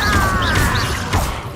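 Harry Potter video game spell effects for Confringo and Incendio: a dense, loud burst of whooshing, crackling magic with a sliding high tone and rising swishes, heard alone without talk.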